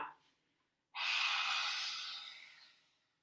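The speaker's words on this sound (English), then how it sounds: "focusing on the exhalation through your lion's breath for three more rounds, really forcing all of the breath out of the mouth" A forceful lion's breath exhalation in a yoga session, pushed hard out through the open mouth: a single long, loud breathy rush that starts abruptly after a faint earlier breath, then slowly fades over about two seconds.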